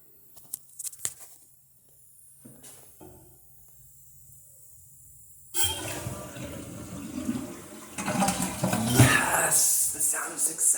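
A toilet flushed by pouring a bucket of water into it: a few faint clicks and knocks, then a sudden loud rush of water that swells and gurgles to the end, with brief voices near the close.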